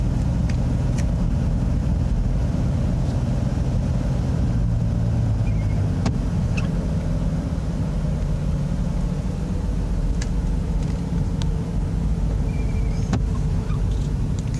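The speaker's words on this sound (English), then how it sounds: "Feel the transmission downshift a couple times." Car engine under way on a public road with an automatic transmission shifting down a couple of times, a steady low rumble running throughout with faint road noise and a few light clicks.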